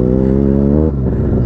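A Benelli 300 motorcycle engine revs loud and close while off-roading, holding a steady harmonic drone before the pitch drops and the note turns rougher and more uneven.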